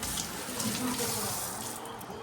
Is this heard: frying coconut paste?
no